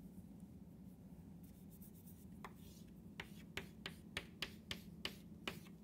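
Chalk or marker writing on a board during a math lecture: faint scratching, then a steady series of crisp taps and strokes over a constant low room hum.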